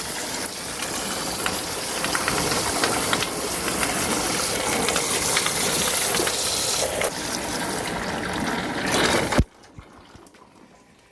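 High-pressure water jet rinsing a split air conditioner's blower and coil under a closed cleaning cover at home, a loud steady gushing spray that runs continuously for about nine seconds, then cuts off abruptly leaving faint room noise.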